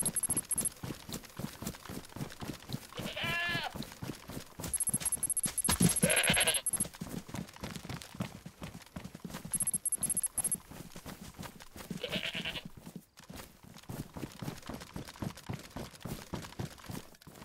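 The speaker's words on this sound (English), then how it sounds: "Ooh, we got some goats." Goats in the video game DayZ bleat several times over a steady clatter of footsteps, with a couple of louder, wavering cries standing out close by and no talk over them.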